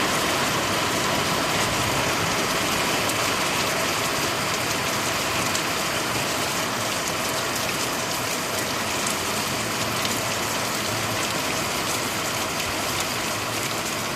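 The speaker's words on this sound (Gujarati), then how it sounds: "વરસાદ જો કેવો પડે છે, જોરદાર." Steady hard rain of an unseasonal December downpour in Vav-Tharad district fields, a constant roaring wash of drops on surfaces, even and loud without pause.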